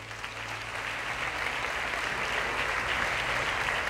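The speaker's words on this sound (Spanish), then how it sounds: "para quien les pido un fuerte aplauso." A crowd gives sustained applause at a town festival proclamation and queen's coronation in Campo de Guardamar, the clapping rising slightly and holding steady for several seconds.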